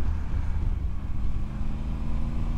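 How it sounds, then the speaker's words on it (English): Motorcycle engine running steadily at idle or low revs, a continuous loud, deep rumble with no voices. "listen to that engine"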